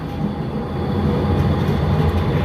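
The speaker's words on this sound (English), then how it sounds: "There goes the tram." A tram rumbles past nearby at Glenelg late at night, a loud steady low roar with rail noise, no voices.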